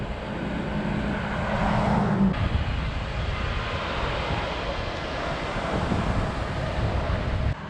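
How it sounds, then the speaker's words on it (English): Strong wind buffeting the microphone in a small Georgia town, a constant low roaring rumble with no talking, steady for several seconds. "It's quite windy."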